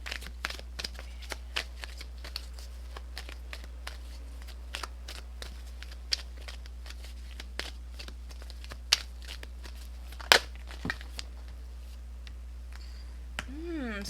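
Tarot cards are shuffled in a long run of crisp riffling and tapping bursts, close and fairly quiet, with a louder snap near the middle and a soft rustle at the end.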